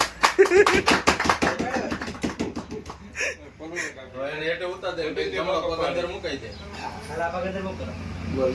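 Guests at an office opening in Gujarat burst into rapid, close clapping that fades after a few seconds as people start talking and singing.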